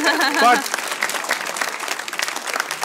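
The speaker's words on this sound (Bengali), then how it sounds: "Round of applause for both Ayman Sadiq and Munzarin Shoaib." A studio audience claps for the guests of a Bangladeshi talk show, with dense applause that swells after a short opening burst of a voice and holds steadily to the end.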